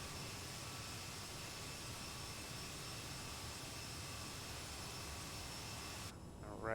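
Steady whine and broadband roar of CRJ900 jet engines during a descent toward Christchurch, New Zealand, heard continuously from inside, with thin tonal hums over the rush before it suddenly drops away at the end.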